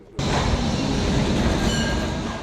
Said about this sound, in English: These trams are locally made.